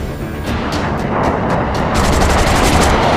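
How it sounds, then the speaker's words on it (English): Rapid aircraft cannon fire from a Mirage jet during a film dogfight scene, a loud dense roar with quick rhythmic bursts layered over sustained engine and effects noise, growing louder toward the end with no voices. "the Mirage is gunning him"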